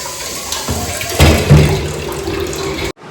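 Steady rushing water pours continuously, like a tap running full into a basin, with a brief clunk partway through before it cuts off abruptly.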